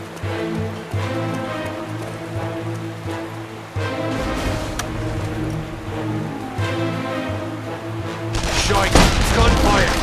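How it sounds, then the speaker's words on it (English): Gunfire in The Saboteur, bursts of shots crackling over a steady in-game rumble, with a sharper, louder volley near the end. "Gunfire!"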